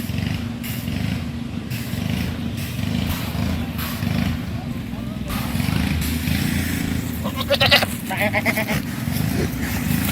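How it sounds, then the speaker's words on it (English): Rented goats brought in to eat poison ivy bleat in a backyard, with nasal cries rising over a low, steady rumble and people talking nearby. "he sounds like a goat"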